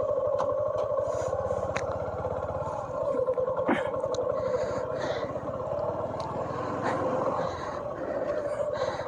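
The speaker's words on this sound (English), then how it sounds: "Now let's ride this motorcycle." A Suzuki V-Strom 250 motorcycle engine runs steadily and close by, with a low rumbling drone and some rattles and clatter throughout.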